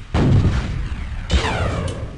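Guided rockets fire in a shooter video game, two deep booming launches with rumbling tails, the second followed by a rising whooshing streak.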